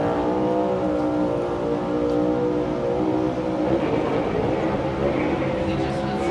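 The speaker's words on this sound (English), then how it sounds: "Yeah, that's a great shot, though, with that drone following that car doing that burnout." A NASCAR Cup Series stock car doing a burnout makes a loud, sustained engine roar with a steady high-revving drone that grows rougher and noisier toward the end.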